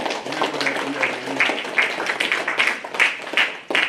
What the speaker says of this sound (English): just give yourself a round of applause for at least making the team